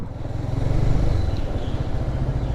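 A motorcycle engine rumbles and rises as the bike pulls away uphill from a stop on a slope, a steady close throttle note with faint clatter and no talking.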